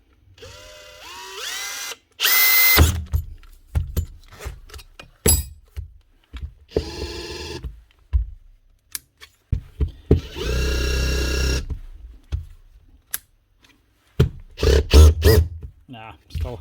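A Makita cordless combi drill stuck in hammer mode whirs and hammers in short bursts, stopping and starting repeatedly, with someone talking between the runs.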